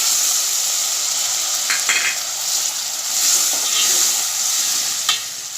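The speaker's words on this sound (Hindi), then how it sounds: "मसाले को अच्छी तरह से भूनेंगे।" Turmeric, tomato and spices frying in a pan, giving a steady close sizzle with a few brief stirring scrapes and clicks.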